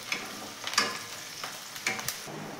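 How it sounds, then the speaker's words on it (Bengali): Split green chillies fry in a pan and are mixed in, a soft background sizzle with a few scattered scrapes and knocks of a utensil against the pan. "কাঁচা লঙ্কাগুলোকে একটু ফাটিয়ে ফাটিয়ে দিয়ে দিচ্ছি। দিয়ে এটাও একবার ভালো করে এর সাথে মিশিয়ে নেব।"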